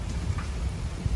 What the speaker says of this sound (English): we still have rain and stuff, but there's no more wind